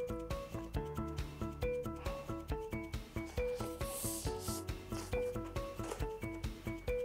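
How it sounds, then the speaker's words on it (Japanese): Crunchy fried baby sardines in a cherry tomato and garlic ajillo being chewed close to the microphone, a soft repeated crunching rhythm, fairly quiet with no talking. "まずジャコの部分ね、音聞こえます？ ザクザク感ね。"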